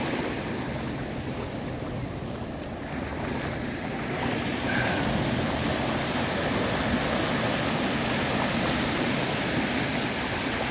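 Atlantic Ocean surf at Short Beach in Maine, below cliffs, gives a steady broadband wash of waves with wind buffeting the microphone throughout, and no voices.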